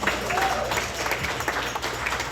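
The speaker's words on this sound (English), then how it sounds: "So one more round of applause for Kinetic and Air Wing" Audience applause at an evening awards-style event, a steady roar of clapping from a crowd with some cheering and voices woven through, sustained at moderate volume.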